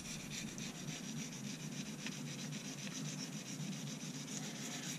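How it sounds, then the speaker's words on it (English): A Swiss Army knife blade is ground against a fine sharpening stone under fairly firm pressure, making a continuous, soft rasping rub that stays fairly faint and steady, with no talking. "We're just shaping on a much finer stone."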